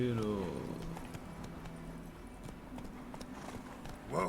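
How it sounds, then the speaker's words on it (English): Horse hooves clip-clop in The Witcher 3 under game speech and ambient sound, with a steady, moderately quiet rhythm running through the short span. "Whoa there, Roach"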